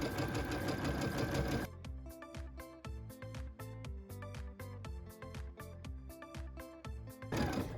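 A sewing machine runs a thin joining stitch on fabric pieces for a tablet sleeve, a close, rhythmic stream of quick needle clicks and mechanical chatter, denser at the start and end, with no talking.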